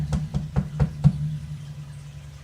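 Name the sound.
knocking on wood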